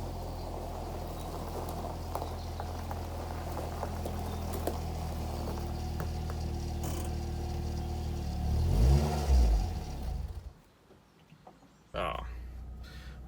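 A car on its first drive runs steadily with a low engine drone, rises in a brief rev near the end, then cuts out into near silence before the idle noise resumes.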